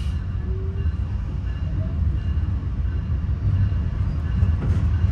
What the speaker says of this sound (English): Track train departing Chicago Union Station.